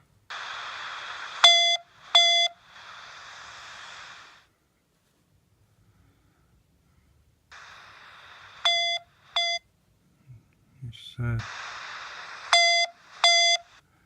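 A Star Trek communicator beep ringtone plays in repeated bursts of buzzy tones punctuated by quick chirping beeps, with silent gaps between the cycles and a brief thump.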